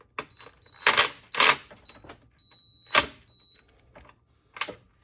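A bolt is dropped into a metal parts tray during intake work, producing a few sharp, close metallic clinks and rattles with ringing tones, separated by quiet pauses.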